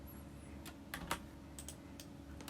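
Keyboard keys tapped on a computer keyboard while working in Blender's Grid Modeler addon: a few sharp, separate clicks over faint room hum, spaced unevenly, close and fairly quiet.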